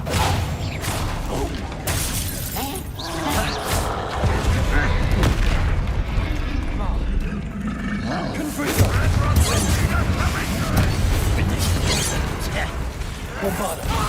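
Bombarda blasting spells go off in Hogwarts Legacy, a string of heavy booming explosions and rumbling roars layered with game noise, while a voice calls out over the mix.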